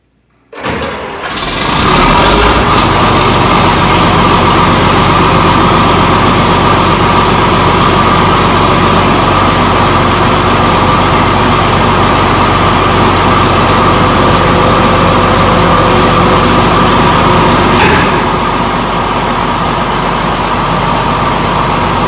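A John Deere 850B crawler dozer's diesel engine starts and then runs steadily at a loud, close, constant rumble, easing slightly in level near the end, with no talk over it.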